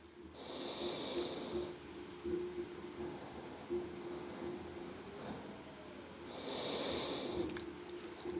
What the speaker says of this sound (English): Don't forget to breathe. Couple more breaths.